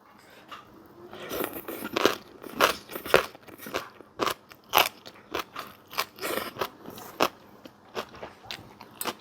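Crunchy pickled luk niang being bitten and chewed close up, a steady run of sharp, loud crunches and crackles repeating at roughly half-second intervals with no talking.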